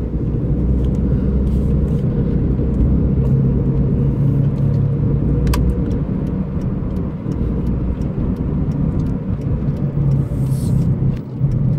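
A car drives through a dusty storm in an industrial area of Kuwait, a loud continuous low engine and road rumble with wind noise throughout, unbroken by talk.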